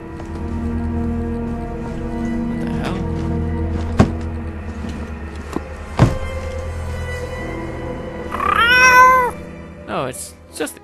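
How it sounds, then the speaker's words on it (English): A cat meows once, loud and close with a rising-falling wail near the end, over a steady tonal music background with occasional sharp clicks. "Cat."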